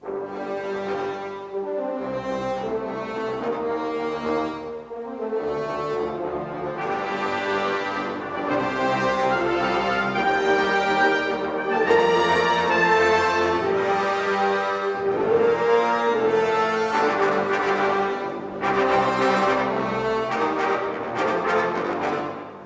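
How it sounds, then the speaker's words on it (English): A full, sustained brass ensemble plays loud, rich chords continuously, with swelling dynamics and no voices. "let's move on to the brass section"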